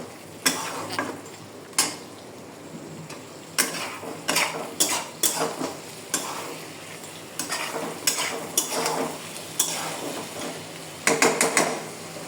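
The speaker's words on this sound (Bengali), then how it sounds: "চিকেনটাকে কষানো হচ্ছে।" Chicken pieces sauté in a pan with a steady low sizzle, while a metal spoon stirs and scrapes in repeated clattering bursts close by, no voices heard.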